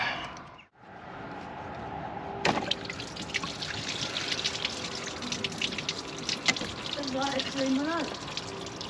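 Coolant trickling and dripping from a car's cut heater matrix pipes, a steady close liquid dribble with occasional splashes, while people talk quietly nearby.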